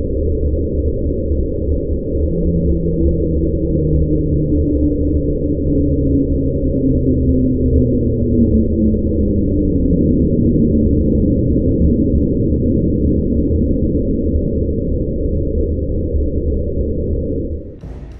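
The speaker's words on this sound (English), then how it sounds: "This sound was recorded using an autonomous hydrophone in the Pacific." Deep Pacific underwater noise captured by an autonomous hydrophone, thought to be icebergs grinding on the ocean floor: a loud, continuous low rumble with slowly descending tonal sweeps, ending abruptly.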